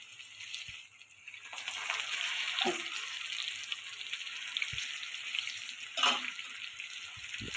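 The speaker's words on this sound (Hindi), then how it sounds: "अब हमने इसको भी तवे पे डाल देना।" Chapli kebab patties frying on a hot tawa griddle give a steady, close sizzle across the whole clip, with a few soft clatters and scrapes of utensils.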